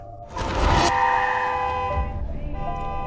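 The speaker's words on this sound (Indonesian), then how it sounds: "teman Ivor yang bernama Tamra menyalakan klakson mobilnya menunggu Ivor di luar rumah." A car horn blares once in a long, loud honk, close by, with engine rumble and some background noise around it.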